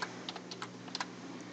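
Soft, quick keystrokes on a computer keyboard while entering text in AutoCAD, a short run of light clicks under a steady low hum, fairly close and quiet.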